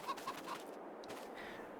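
A few soft clucks from caged hens in Farming Simulator 22 at the start, then quieter faint bird sounds, with a flat, synthetic quality.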